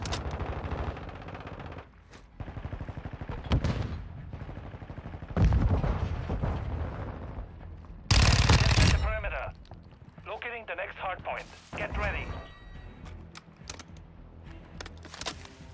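Fennec 45 SMG firing in Call of Duty Modern Warfare 2, several rapid automatic bursts of close, loud gunfire separated by pauses, with someone talking over and between them.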